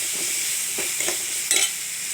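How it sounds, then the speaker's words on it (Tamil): Steady bright sizzle of onions and garlic frying in a pan, with a few soft scraping stirs of a spatula partway through. "இந்த வெங்காயம் பூண்டெல்லாம் நல்லா வதங்கணும்."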